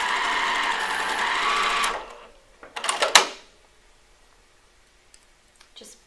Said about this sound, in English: we're just gonna use a 1/4 inch seam and sew on each side